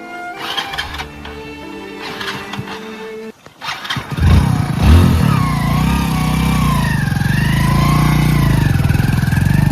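A motorbike engine is kicked to life after a few seconds of other noise, then idles loud and close with a steady, throbbing rumble and slight revving.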